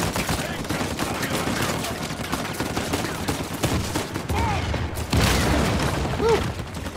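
Gunfire in the Uncharted 4 video game: dense, continuous volleys of shots and booms form a loud, chaotic battle din with no clear pauses.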